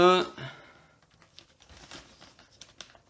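Plastic packaging of a transparent Hot Toys Groot figure being opened, soft crinkling and tearing in scattered bursts after a short spoken word at the start.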